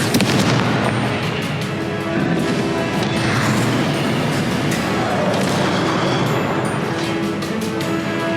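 Confringo spell blasts from Hogwarts Legacy gameplay on PS4 fire in a dense, continuous barrage of loud crashing explosions and impacts, layered with other spell effects and no pauses across the stretch.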